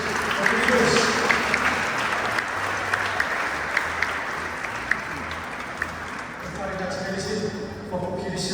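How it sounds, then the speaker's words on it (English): A crowd claps steadily for teachers at a school reading department activity, sustained applause dense and continuous, with a few voices and cheers mixed in near the end. "Let's give a round of applause for the teachers."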